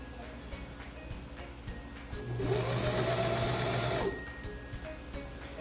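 A sewing machine stitching fabric for a simple sundress runs steadily for about two seconds in the middle, a close mid-pitched motor whir with faint room noise before and after.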